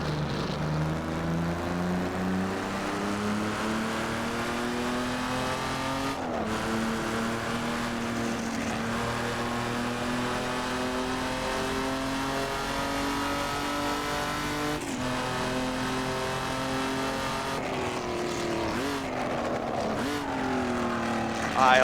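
A Jaguar XJ13 with a V12 engine in the Assetto Corsa racing game roars loudly and continuously, with pitch climbing through repeated upshifts and gear changes in a dense, layered engine note.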